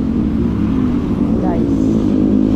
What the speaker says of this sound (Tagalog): ingay ng tambot ko ng jeep